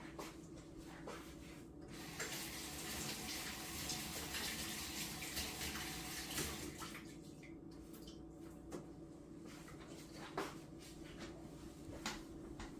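Tap water runs steadily into a kitchen sink while eggs are rinsed for tea eggs, a faint continuous splash with occasional light knocks and clatters.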